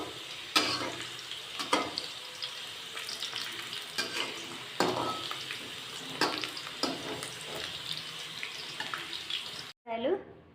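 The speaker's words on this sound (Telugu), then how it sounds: "ఇలా వేయించుకోవాలి కాకరకాయలు." Bitter gourd slices sizzle steadily in a pan, with the sharp scrape and clatter of stirring recurring every second or so over the continuous frying hiss before it cuts off abruptly near the end.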